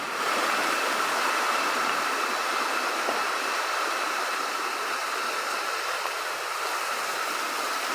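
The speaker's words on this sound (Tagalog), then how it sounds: "Ilog ang dito." A small river stream flows over rocks in a steady, continuous rush of water, close and evenly loud throughout with no talking.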